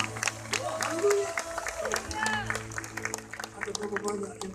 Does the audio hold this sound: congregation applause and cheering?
yes